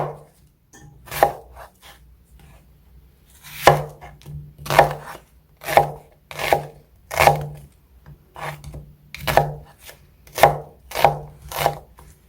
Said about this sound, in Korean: 갈기 좋게 이렇게 좀 칼집을 이렇게 잘잘하게 이렇게 내서 이렇게 준비를 하시면 돼요